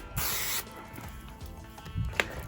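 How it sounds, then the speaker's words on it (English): A detailing sprayer bottle spritzes waterless wash onto a car's dirty surface, one loud close hiss lasting about half a second, followed by quiet handling noises. "So for example, you can give it a nice spray, get everything nice and wet here."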